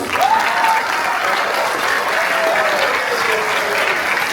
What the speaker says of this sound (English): let's give her another hand of applause